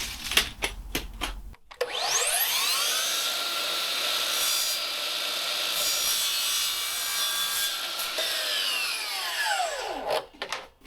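A power saw cuts timber architraves to a miter: a few taps, then the blade whines up, bites steadily through the wood for several seconds, and spins down.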